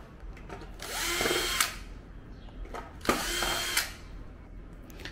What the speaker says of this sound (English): So first we should take the screws of the main board